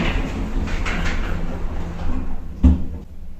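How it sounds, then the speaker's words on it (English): A lift door slides shut in an express-button-shaped elevator, a steady rolling hum of the mechanism ending in a single firm thud as the doors meet, fairly close with no talk. "Doors closing."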